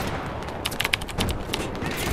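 Video game shotgun fire, a rapid string of sharp blasts and cracks in a multiplayer shooter, loud and close, over steady background game noise.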